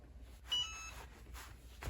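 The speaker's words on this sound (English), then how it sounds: "And now when it beeps, you know it's ready." A heat press signals it is ready with a single short electronic beep, fairly faint, over a quiet low background hum.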